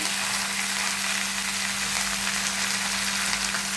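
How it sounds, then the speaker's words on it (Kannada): Mint, coriander, dill and fenugreek leaves fry in hot oil for a mutton biryani masala, giving a steady, close sizzle with a faint constant hum underneath and no talking. "ಮತ್ತು ಇದಿಷ್ಟನ್ನು ಆಯಿಲಲ್ಲಿ ಚೆನ್ನಾಗಿ ಫ್ರೈ ಮಾಡ್ಕೊಂಬಿಡೋಣ"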